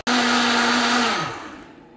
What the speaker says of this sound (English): this is going to be really close on this blender here.